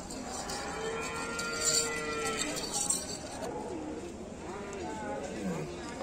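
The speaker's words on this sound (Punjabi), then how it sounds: "ਇਧਰਲੇ ਪਾਸੇ ਵੀ ਕੁਝ ਗਾਈਆਂ ਖੜੀਆਂ ਕ੍ਰਾਸ ਬਰੀਡ ਵੀ ਮਿਲ ਜਾਂਦੀਆਂ ਗੀਆਂ" Cattle, including crossbred cows, low and moo at a busy morning livestock market in Jagraon, Punjab, the calls rising through a bed of crowd noise while someone talks nearby.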